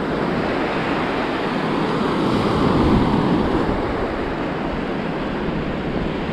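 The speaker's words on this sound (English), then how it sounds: "look at our beaches here in South Carolina" Ocean waves wash steadily onto a South Carolina beach in a continuous broad roar that swells slightly midway, mixed with wind buffeting the microphone and no voices.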